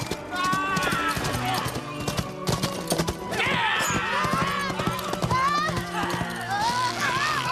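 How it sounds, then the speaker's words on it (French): Rapid hoofbeats of galloping horses with whinnies, loud and close, mixed with other sounds and a busy background throughout. "on dirait des chevaux"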